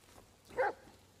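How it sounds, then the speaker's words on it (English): A dog in the Blair Witch video game gives a single faint, short bark, distant and isolated against quiet forest ambience. "Oh, have a look, he's barking"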